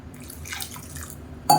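Water trickles and drips steadily into a cooking pot while green rice with carrot and beans is prepared, ending in a brief louder splash.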